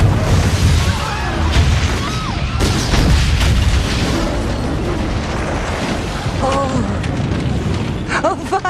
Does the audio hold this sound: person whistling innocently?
no